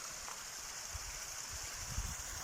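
Water rushes through a canal beside a backyard tilapia pond, a faint, steady babbling stream with a few soft gurgles, heard from nearby without speech.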